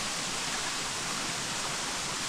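Steady broadband rush of a river or waterfall flowing on a hiking trail in Shenandoah, a continuous even roar close by with no breaks and no voices.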